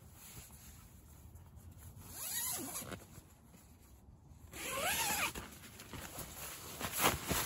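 A zipper on the door of a LiteFighter 2 military tent is pulled open halfway in two strokes, close and crisp, with a short pause between the pulls.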